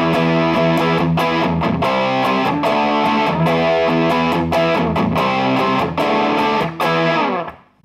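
Distorted electric guitar through a Bob Burt Multi-Drive distortion pedal plays a rhythmic chord riff with sharp palm-muted stabs, compressed and gritty, then rings out and fades at the end.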